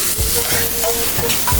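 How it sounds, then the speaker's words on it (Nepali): A short burst of stirring in a pan of iskush (chayote) curry, close scraping and soft sizzling with a few utensil knocks. "यो यति सबै मिक्स भएपछि यसलाई मिक्स गरौँ"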